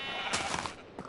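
A sheep in Minecraft gives a short, wavering bleat, fairly close and lasting about a second, with a soft second cry starting at the end.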